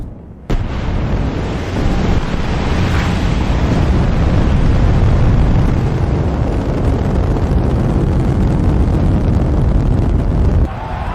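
A rocket launch in space: a loud, sustained broadband roar that starts abruptly and holds steady and forceful for about ten seconds before cutting off.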